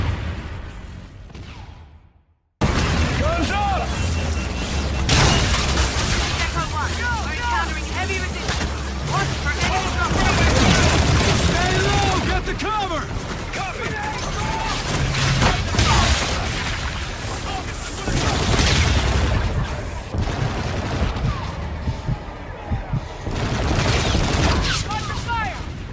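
Sustained automatic gunfire and explosions in the video game Call of Duty Infinite Warfare, a dense, loud and continuous barrage lasting over twenty seconds with shouted voices over the shooting.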